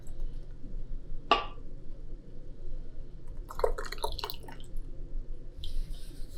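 Thick homemade tomato marinara sauce is ladled into hot canning jars, giving a few soft wet plops, drips and glassy clinks over a quiet low hum, no talking.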